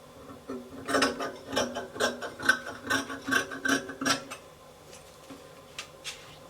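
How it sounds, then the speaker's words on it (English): Scissors snip through fabric while a dress neckline is cut, a close run of about a dozen rhythmic crunching cuts, then fainter scattered snips as the cutting trails off, with no talk. "I will cut the front neckline."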